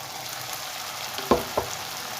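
Masala sizzles in a pan as lightly browned onion and ground tomato fry for a fish curry, a constant hiss broken by two quick knocks of a spoon near the end.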